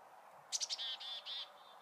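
A faint, high bird call sounds from a chickadee by a stream: a quick run of three or four short chirps, then a couple of longer, even whistled notes, with quiet background and no voices.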